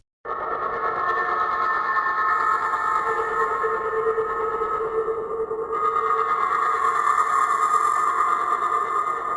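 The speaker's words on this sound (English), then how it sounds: "it's a very ambient soundscape made with the noise oscillator" A Whispers synth preset built on a noise oscillator drones as an ambient soundscape, a sustained airy hiss with layered tonal whistles that swells and shifts, steady and fairly loud throughout.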